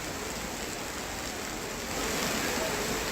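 Heavy monsoon rain with flood water in Madhya Pradesh, a steady dense broadband hiss of downpour and running water that swells slightly louder toward the end.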